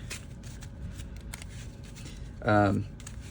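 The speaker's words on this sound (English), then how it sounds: "shuffle the encounter deck" A deck of real playing cards is shuffled during a card game: one short, loud riffling burst near the end, set against a steady room background.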